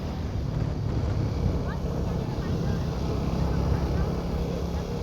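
A TVS Apache 200 4V motorcycle engine runs with a smooth, steady low rumble, partly buried under heavy wind buffeting on the microphone.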